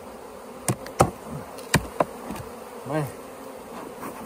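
Honeybees swarm around the open bottom box of a strong, feisty hive in October in South Alabama, a close busy buzz broken by several sharp knocks and one rising-and-falling bee flyby, with a voice heard briefly.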